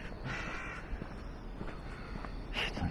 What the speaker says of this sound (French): oh les corbeaux!